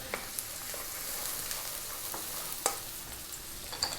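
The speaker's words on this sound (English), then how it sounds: "In goes the onion, cut nice and small. In goes the garlic, tablespoon and a half of chopped garlic there." Finely chopped onion and a tablespoon and a half of chopped garlic fry on high heat in a wok, a steady loud sizzle with occasional stirring clicks and scrapes, no talk.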